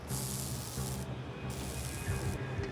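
Spray discharges in sharp hissing bursts during a Coast Guard arrest, three blasts separated by short pauses, close and forceful over a low background rumble.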